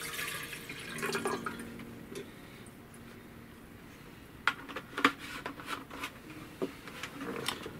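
Bleach poured into a teapot gives a soft trickle that turns into scattered drips and splashes, quiet and close, over a low background hiss.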